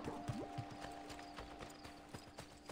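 Hooves clip-clop in a quick, uneven rhythm in the video game Assassin's Creed: Brotherhood, with a steady electronic hum running underneath.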